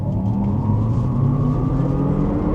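A 2026 Hummer EV 3X with 830 horsepower pulls away from a standstill, a smooth rising electric whine over road and tire rumble, heard from inside the cabin with no talking.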